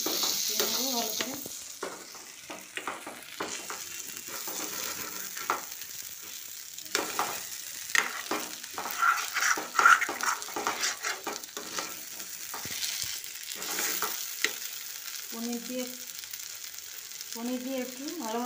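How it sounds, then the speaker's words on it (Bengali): Paneer frying with salt in a pan gives a close sizzle with intermittent scraping stirs, while a voice talks at times over the cooking. "পনির দিয়ে একটু ভালো মতন মিশিয়ে নিয়েছি।"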